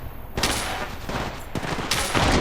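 Gunfire in the mobile game Apex Legends Mobile: loud, dense automatic bursts that run almost continuously, pausing briefly before starting up again, with no speech.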